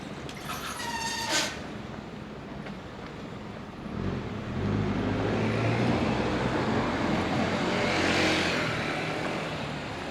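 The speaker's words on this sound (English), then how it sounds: "That car was kind of rude." A car passes along a street in Kyoto, a broadband rush that swells from about four seconds and stays loud to the end, with no talk over it.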